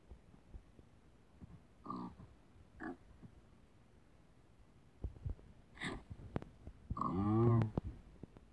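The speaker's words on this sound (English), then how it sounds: "Alright, let's give these to the pigs." Pigs in a video game give a few short grunts and snorts spaced apart, ending in a louder, longer squealing grunt near the close, with no talking over them.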